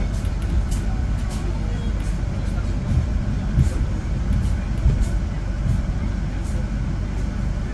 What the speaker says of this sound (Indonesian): kita bersilang dengan kereta api Sindro ya teman-teman, menggunakan lokomotif CC206